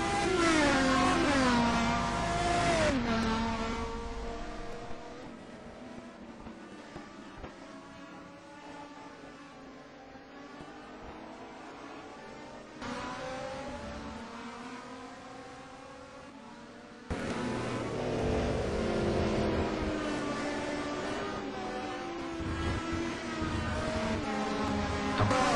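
Touring race cars lap Donington Park in the European Touring Car Black Cup, their loud engines sustained and shifting in pitch as they pass, with a sudden swell as another pack of cars roars by near the end.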